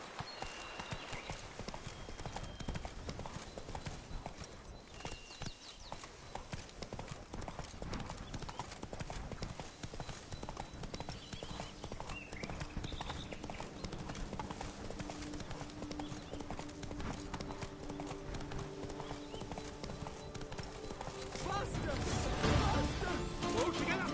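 A horse gallops in The Witcher 3: Wild Hunt, hooves pounding in a fast, steady clip-clop close by, with other game sounds mixed in and a louder crash of activity near the end.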